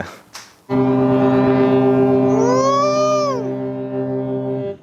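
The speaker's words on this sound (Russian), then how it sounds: "а капитаны принялись мериться гудками" A ship's horn sounds at the North Pole, a loud, deep sustained blast lasting about four seconds, with a second horn rising and falling in pitch over it partway through.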